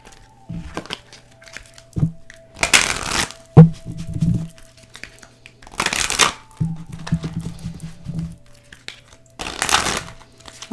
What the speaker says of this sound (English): Let's go ahead and shuffle these cards up.